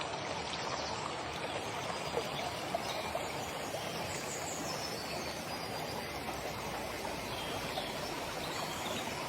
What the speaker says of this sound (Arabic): عين الدسمة هي شلال يقع في بلدية قنواع